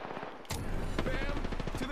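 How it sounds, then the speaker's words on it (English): Rapid bursts of automatic rifle fire from an R-301 in the Apex Legends video game, loud and close, with sharp cracks repeating quickly over a short stretch. "Opening fire on the enemy."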